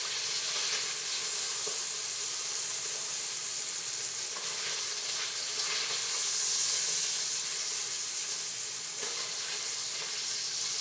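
Potatoes fry in a pan with a loud, steady sizzle and hiss that carries on unbroken and close, with faint stirring and crackle underneath and no voices.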